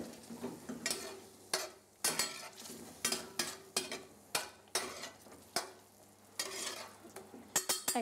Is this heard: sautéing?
yes